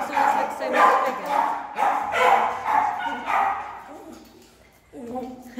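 A small dog barks and yips in a quick series of close, sharp bursts, with a voice speaking between and after them.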